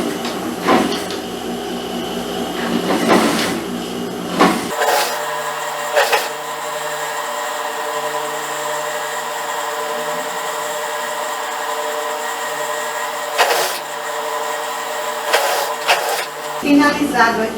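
Sewing machine stitching a finishing seam along the edge of bias binding on a child's blouse: a loud, close, steady mechanical whir running for several seconds, framed by short starts and stops and handling clicks.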